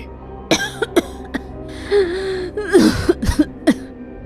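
A girl coughs repeatedly in a cartoon horror scene: a string of harsh, close coughs and throat clearing, irregularly spaced over several seconds.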